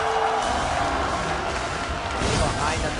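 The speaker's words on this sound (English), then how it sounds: "Crowd, I want to hear you let them know if they have what it takes" An esports arena crowd at a League of Legends regional match, CLG versus Dignitas, roars and cheers continuously, a dense loud wash of voices that swells again near the end.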